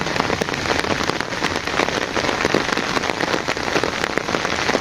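Steady rain pattering hard on a surface in a village, dense drops falling continuously and close, with no voices.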